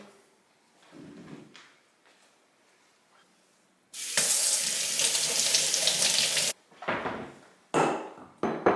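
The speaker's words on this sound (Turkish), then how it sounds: "havuçlarımı yıkayıp geliyorum" Tap water runs full into a kitchen sink as carrots are washed: a loud, steady gushing rush lasting a few seconds, with quieter handling clatter before it and brief splashing bursts after it stops.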